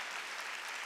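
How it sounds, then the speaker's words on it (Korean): A church congregation claps together during a Wednesday worship service in a brief, even burst of applause. "두드려 박수 치라고."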